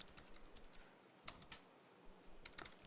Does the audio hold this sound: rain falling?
no